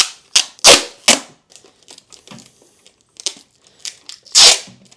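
Sticky tape pulled from a roll and torn off at close range, loud ripping bursts with short rasping pulls between them and a final long tear near the end.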